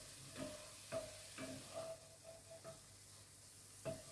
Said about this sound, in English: sprinkle that over our mixture. Give that a stir around and make sure that the flour is cooked out.